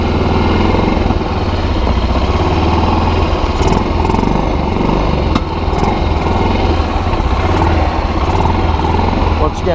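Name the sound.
Kazuma Jaguar 500 4x4 ATV engine starting and idling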